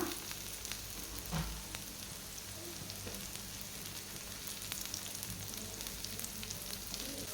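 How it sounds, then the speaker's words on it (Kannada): Chopped tomato and onion fry in a pan for a fish masala fry, giving a steady close sizzle that runs unbroken throughout, with an occasional faint stir. "ಇದಕ್ಕೆ ಕಟ್ ಮಾಡಿದಂಥ ಒಂದು ಟೊಮೆಟೊ ಹಾಕ್ಕೊಳ್ತಾ ಇದ್ದೀನಿ ಇದನ್ನು ಕೂಡ ಚೆನ್ನಾಗಿ ಫ್ರೈ ಮಾಡ್ಕೊಳ್ಳೋಣ"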